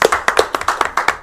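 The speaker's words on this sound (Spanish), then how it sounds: "fuerte el aplauso" Sharp hand claps in a quick, fairly even rhythm, close and loud, about nine or ten strikes with no voices, as applause for a guest.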